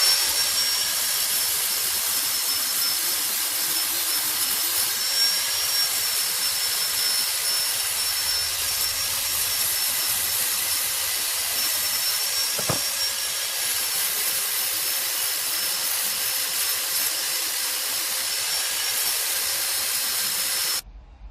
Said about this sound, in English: just take a power file and just take the edge off these pads here